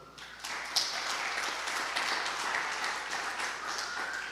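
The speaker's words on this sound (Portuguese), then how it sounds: "Vamos aplaudir o Senhor?" A church congregation applauds during a Portuguese-language worship service, with a steady wash of clapping that starts after a brief quiet moment and holds evenly to the end.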